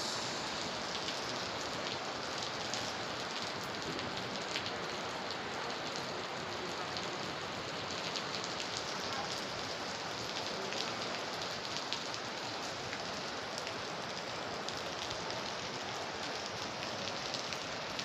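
Heavy rain pouring down in Manila, a dense, continuous hiss of drops hammering surfaces, steady and even from start to finish with no voices.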